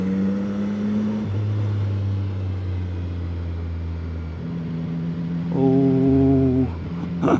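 CFMOTO 675SR-R motorcycle engine pulling in third gear on twisty roads, a close, loud droning tone that rises and falls as the throttle changes, climbing sharply near the end.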